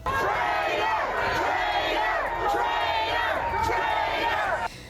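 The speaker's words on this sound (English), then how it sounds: "many were screaming expletives about the government and the media" A hostile protest crowd in Belleville, Ontario shouts and chants loudly and continuously, with rhythmic rising and falling yells from many voices close by.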